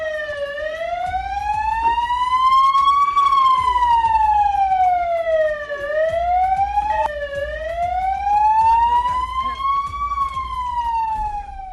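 An ambulance siren in the town of Saint-Louis wails loudly and steadily, its pitch sweeping slowly up and down in repeated cycles over a low traffic rumble.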